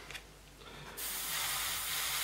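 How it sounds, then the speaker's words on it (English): An airbrush sprays white primer onto an Airfix 1/48 North American P-51D model, starting with a faint hiss and some clicks before switching to a loud, steady spray hiss that holds to the end. "While I've got white in the airbrush,"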